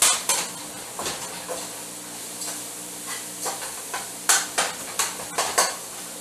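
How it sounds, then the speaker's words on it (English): Garlic seasoning and parsley being stirred into butter, a soft background sizzle broken by repeated sharp clinks and scrapes of a utensil against the bowl or pan, close and uneven in rhythm. "now you stir your garlic with your butter"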